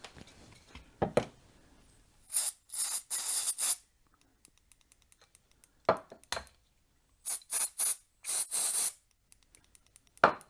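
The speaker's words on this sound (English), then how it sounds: "Let's see if we've got some switch cleaner." Switch cleaner sprayed onto a micro switch from an aerosol can, several short hissing bursts in quick groups, close and fairly loud, with small clicks and taps between them.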